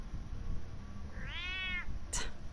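A cat meows once in the video game Batman Telltale, a clear drawn-out rising and falling mew followed by a short sharp sound, over a quiet low background.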